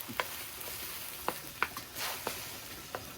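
Shrimp sizzling in a hot pan for shrimp fried rice, a faint steady frying hiss broken by a few sharp pops and crackles, with no talking.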